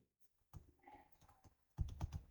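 Key presses on a computer keyboard while a date is entered into a database form field, several quick clustered taps near the start and a louder, denser burst of keystrokes toward the end, close and clear with no talk.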